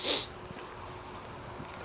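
A dog with the sniffles gives one sharp, close sneeze at the start, followed by quiet snuffly breathing and faint background noise.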